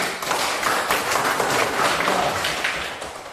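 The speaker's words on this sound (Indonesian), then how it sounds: "Oke, kita tepuk tangan untuk ini" Classroom of children clapping hands together in a burst of applause, dense and continuous for a few seconds, fairly loud and close, fading slightly at the end, with no talking over it.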